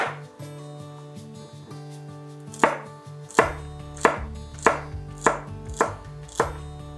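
A knife chops through celery on a cutting board. It starts with a few soft cuts, then settles into a steady run of crisp, evenly spaced chops over a sustained tonal background.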